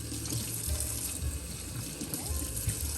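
Water runs steadily from a tap while a glitter Christmas ornament is rinsed out, a continuous close splashing rush with small shifts as the ornament moves under the stream.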